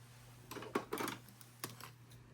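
Scissors snip a clear sticker for a Christmas craft, several soft close clicks and cuts in quick succession, faint against a steady low hum.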